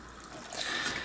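Evaporust rust remover liquid poured over rusty bike freewheel and chain parts in a container, a soft continuous trickle and splash that swells slightly midway, close and quiet.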